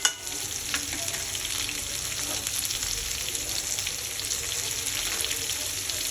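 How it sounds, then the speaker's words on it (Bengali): Turmeric, garam masala and chilli powder frying in a pan for chicken kofta, a steady close sizzle with faint stirring scrapes throughout. "এটাকে আমি ভালো করে একদম ফ্রাই করে নিচ্ছি।"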